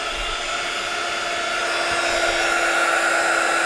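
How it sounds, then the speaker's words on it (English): A heat gun blows hot air over embossing glaze, giving a steady, loud, breathy whoosh with a faint hum, unbroken and alone. "let's get the heat gun again"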